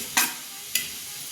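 Turmeric and Kolhapuri chutney spice powder hitting hot oil in a kadhai, two short bright sizzling bursts about half a second apart, close and fairly quiet.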